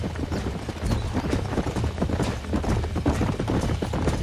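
Horse hooves clip-clop steadily in Red Dead Redemption, several horses trotting in a continuous, fairly loud rhythm with faint game ambience beneath.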